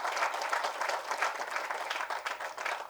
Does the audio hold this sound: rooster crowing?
no